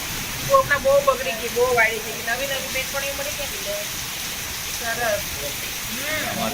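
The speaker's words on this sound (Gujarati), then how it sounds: "આ એટલો જોરમાં વરસાદ આવી રહ્યો છે" Heavy rain pours down in a steady, dense hiss in a village, with a person talking over it throughout.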